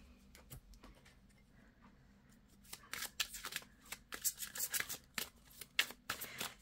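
Tarot cards are shuffled close up, starting with a few soft isolated flicks before breaking into a busy run of crisp, rapid riffling and slapping; no voices.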